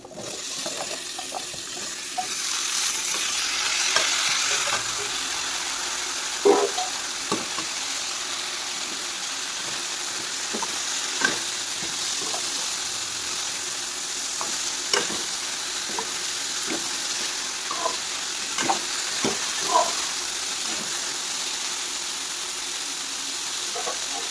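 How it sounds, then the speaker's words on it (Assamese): Cut chayote squash and potatoes frying in hot oil in a pan, a continuous loud sizzle with occasional stirring scrapes and clicks, close up and without talk. "এতিয়া মই কাটি লোৱা স্কচ আৰু আলু দি দিছোঁ।"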